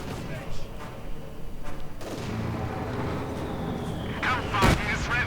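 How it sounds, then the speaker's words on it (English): Machine gun, mortar and artillery fire from a Company of Heroes 2 battle crackles and booms in dense bursts under a commentator's voice, with a sharp louder blast near the end. "Heavy fighting in the centre. Machine guns, mortars, everything else firing in."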